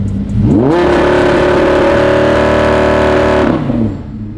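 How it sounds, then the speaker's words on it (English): A supercar engine is revved once, climbing quickly to a loud, steady high-pitched hold for about three seconds, then dropping back; close by, with no talking. "Rev it."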